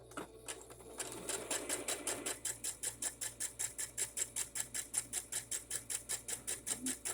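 A sewing machine runs a straight stitch through fabric scraps, starting up and then settling into a fast, even mechanical rhythm of evenly spaced stitch pulses, close and clear.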